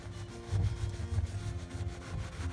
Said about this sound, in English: This is a little wet sanding.